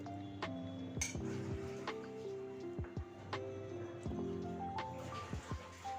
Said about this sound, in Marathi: आता हे जे मिरच्या, लसूण आणि कोथिंबीर तव्यावर परतून घेतलं होतं ते आपण आता मिक्सरच्या भांड्यात टाकूया